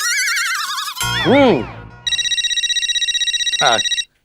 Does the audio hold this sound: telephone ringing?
yes